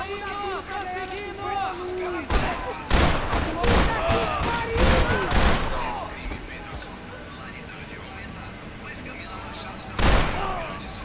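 Gunshots in Max Payne 3, several sharp bursts in a tight cluster, then a lone loud shot later, set against music and game ambience.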